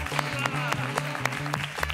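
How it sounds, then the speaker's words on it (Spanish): Applause from a television studio audience for a trio, rhythmic clapping with regular sharp accents over a sustained low musical tone, fairly soft and brief. "¡Fuerte aplauso para ellos!"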